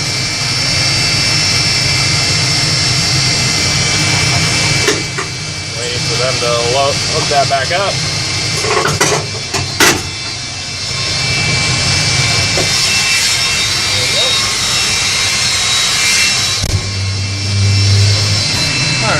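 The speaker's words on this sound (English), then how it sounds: "so you can see they're successfully started the second engine" A jet airliner engine spooling up during an air start on the ramp, a loud sustained whine and roar with clanks, and someone talking over it.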